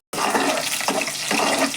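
A brief, forceful rush of water poured into a cooking pan over mint and coriander, starting suddenly and running for under two seconds.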